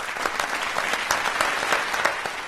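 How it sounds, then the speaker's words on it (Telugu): A round of applause from a studio audience, brisk overlapping claps filling a short burst at moderate volume without voices. "let's give him a round of applause"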